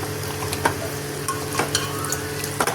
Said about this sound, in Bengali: দিয়ে দিচ্ছি দই মাখিয়ে রেখে নেব